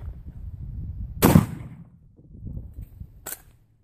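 A single sharp crack from a Ruger 10/22 rifle firing .22 Long Rifle into a soy milk bottle target outdoors, followed a couple of seconds later by a fainter second snap, with low background rumble between.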